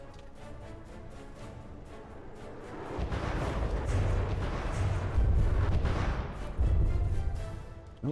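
Ship turret cannons fire in a From the Depths naval battle game: heavy, rumbling booms and blasts pile up, growing louder and denser toward the end with a few sharper impacts.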